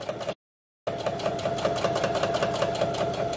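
A sewing machine stitches a pocket seam on an apron made from a men's dress shirt, running steadily and loudly, with one short pause near the start before the motor hums on without a break.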